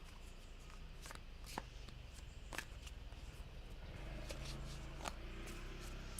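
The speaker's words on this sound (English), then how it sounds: "The cards really are wanting to be shuffled a lot." A deck of tarot cards is shuffled again and again, with crisp riffling bursts over a steady background hiss and no talk.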